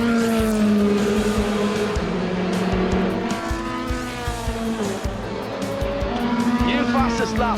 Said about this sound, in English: Felipe Albuquerque in the Zytek now with a new set of tyres. He's going well and getting quick laps in